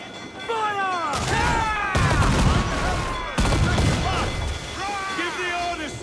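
Ship cannons fire in the pirate naval combat of the video game Assassin's Creed IV Black Flag, booming in loud volleys over shouting crew voices and game music.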